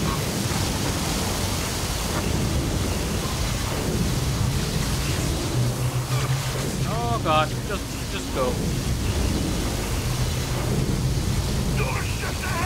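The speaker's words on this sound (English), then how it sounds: "Whoa! Storm walls here!" In Gears of War 4, a storm wall howls with dense, unbroken wind and rumbling thunder that fill the whole scene, while someone speaks briefly over the roar.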